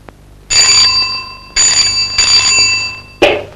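A bright electronic doorbell chime rings twice in long sustained tones, then a third ring starts and cuts off abruptly; loud and close, with no talking.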